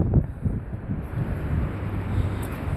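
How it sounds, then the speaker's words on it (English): Gusty outdoor wind battering the microphone, a steady low roar with uneven surges. "It's windy as heck out here, boys."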